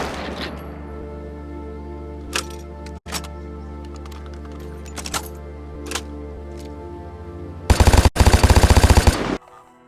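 Video game Vigor LMG fire: a few short isolated bursts early, then a sustained loud rapid burst near the end, set over steady game ambience with no talk.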